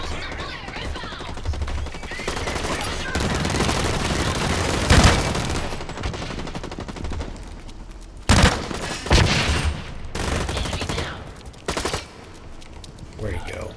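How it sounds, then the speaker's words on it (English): Rapid automatic gunfire and explosions from the shooter game Blacklight Retribution, dense sustained bursts with sharp booming hits loud throughout, while a voice talks over the action. "Trying to take a shot."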